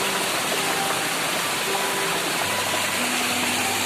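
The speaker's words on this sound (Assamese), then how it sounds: "তই বাচ্চাতকৈ জোৰত বল কৰাৰ দৰে আহিছে পানীখিনি।" A waterfall gushes forcefully, making a dense, continuous broadband roar that stays loud and unbroken across the whole stretch.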